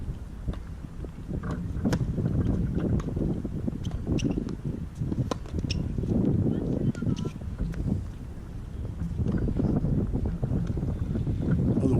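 Wind gusts across an outdoor high school girls' tennis court, a steady low buffeting rumble against the microphone that swells and eases throughout, with faint scattered ticks above it.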